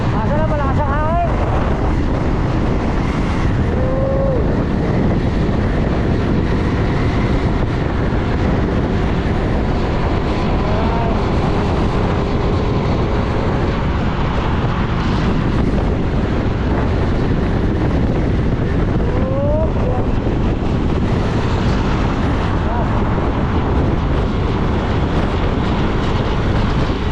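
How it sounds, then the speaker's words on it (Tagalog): Strong wind buffets the microphone continuously near SM Sukat, a dense roaring rush with traffic rumbling underneath throughout. "malakas ang hangin"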